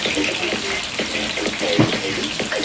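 Vinegar pours into a container for an escovitch dressing, a continuous close liquid trickle and splash over a few seconds, with faint voice-like sounds in the background.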